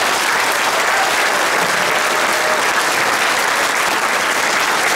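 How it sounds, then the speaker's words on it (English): An audience applauds the young performers of a Practically Peter Pan stage show in Nassau County, loud, thick, sustained clapping filling the hall. "Give them one more big round of applause."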